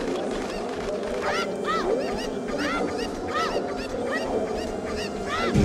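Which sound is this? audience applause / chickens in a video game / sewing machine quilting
chickens in a video game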